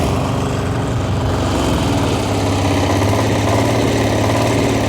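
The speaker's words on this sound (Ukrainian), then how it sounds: "Приємно працює двигун, потужно виглядає мотоблок." A small single-cylinder walk-behind tractor engine, a Motor Sich model, runs steadily at close range, a loud, even mechanical chug with no pauses.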